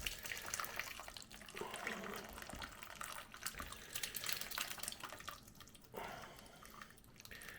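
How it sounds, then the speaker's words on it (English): Homemade bramble juice pours steadily through a strainer, a continuous close trickle and splash of liquid lasting throughout, with a brief pause and renewed flow near the end. "We're just pouring it through the strainer."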